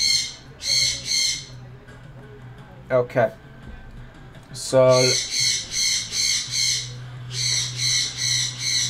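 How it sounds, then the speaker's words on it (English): A pet bird screams in repeated loud, harsh squawks in short bursts nearby, while a person talks briefly in the middle. "I don't know why the bird is screaming right now."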